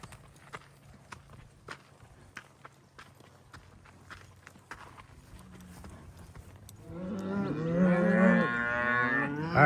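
Cattle being sorted into a ranch corral, starting with faint hoof clops and footsteps, then loud close mooing from several cows over the last few seconds.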